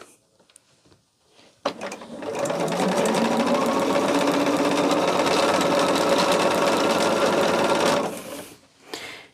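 A sewing machine stitches quilt patches for a red and white quilt block, running in one steady, loud, continuous burst for about six seconds after a brief start, then stopping.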